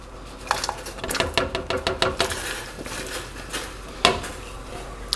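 Potatoes are dropped into a pot of salted water on a kitchen stove, giving a run of clattering knocks and clinks against metal with one sharper clunk near the end, close and fairly loud, with no talk.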